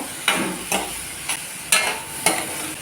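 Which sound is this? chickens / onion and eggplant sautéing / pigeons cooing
onion and eggplant sautéing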